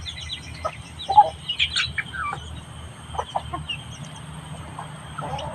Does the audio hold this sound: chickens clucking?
yes